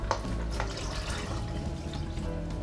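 Several cups of water poured into a pot of boiling tomato pulp, a steady close splashing and pouring wash that runs the whole time with brief louder gurgles, no voice.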